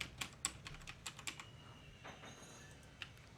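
Keys clatter on a computer keyboard while someone fills in an online application form, in quick close taps that thin out into a few scattered presses, quiet and with no voice.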